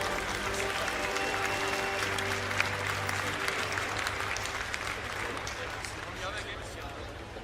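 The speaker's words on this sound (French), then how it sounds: "je voudrais s'il vous plaît que vous applaudissiez bien fort ces 15 élèves" An audience at a Blonde d'Aquitaine cattle show claps steadily for several seconds, a dense continuous applause at moderate distance with a low murmur of voices beneath, fading slightly at the end.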